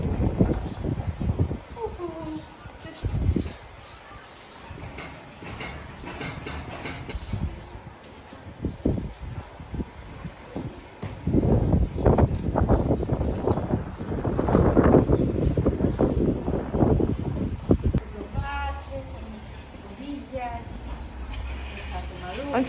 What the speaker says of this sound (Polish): Ale wiatr dzisiaj jest.